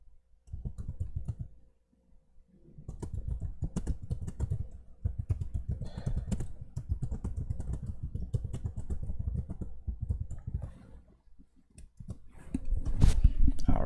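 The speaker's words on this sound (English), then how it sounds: "I'm trying to type fast." Rapid typing on a computer keyboard during live trading, dense bursts of close clicking keystrokes with brief pauses, a voice speaking over the tapping.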